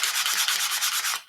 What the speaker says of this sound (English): if I give that a little bit of a sand, you won't really notice it.